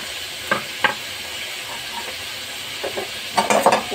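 Chili and onions being stirred together in a frying pan, with a soft steady sizzle-hiss and a few sharp scraping strokes of the spoon against the pan.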